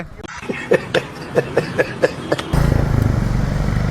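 A KTM Duke 200 BS3 motorcycle fitted with a GT exhaust gives a series of sharp, evenly spaced pops. It then settles into a loud, continuous, throaty rumble close by.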